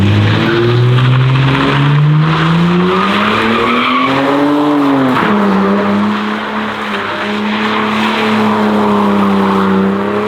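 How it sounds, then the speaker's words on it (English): Worn-out car tires shriek loudly and continuously in a drawn-out squeal as the car peels out in second gear, the pitch rising and falling under a roaring engine. "If I could peel her in second and then just send it out."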